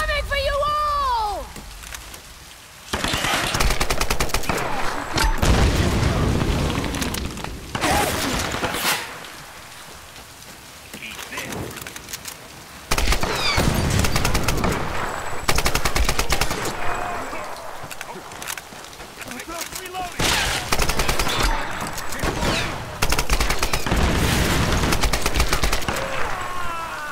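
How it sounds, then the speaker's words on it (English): Grenade launcher blasts and gunfire in Tomb Raider: a dense run of loud, booming explosions and rattling shots that recur in heavy bursts, with brief lulls, across the whole stretch. "Grenade launcher!"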